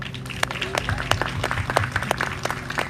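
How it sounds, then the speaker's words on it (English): A round of applause from a seated audience at a talk, with scattered individual claps close by and a voice heard faintly beneath. "Please give them another round of applause."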